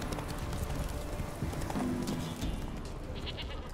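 Roach the horse trotting in The Witcher 3, a steady rhythmic clip-clop of hooves close up over a busy game soundscape with faint background ambience.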